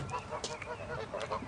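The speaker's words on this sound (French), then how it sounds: "Qu'est-ce que tu fais avec cette oie, Jim?" A goose honks repeatedly in a short, busy burst of nasal calls, close and moderately loud, in a scene from a French-dubbed Sherlock Holmes adventure.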